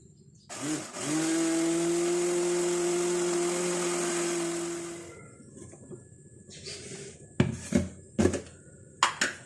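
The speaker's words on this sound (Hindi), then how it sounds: "इस पानी के साथ इस दाल को ब्लेंडर में ग्राइंड कर लेते हैं" Electric kitchen blender grinding soaked moong dal with a little water into paste: a loud, steady motor whir lasting about four seconds, then a few scattered clinks and knocks afterward.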